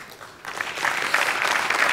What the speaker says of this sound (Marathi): आज त्यांच्यासाठी एकदा जोरदार टाळ्या